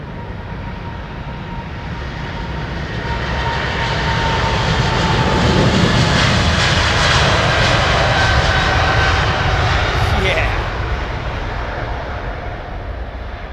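An airliner powered by GE90-115B jet engines at Heathrow Airport roars loudly, the broad engine rumble building to a peak midway and easing off, steady and continuous with no voices.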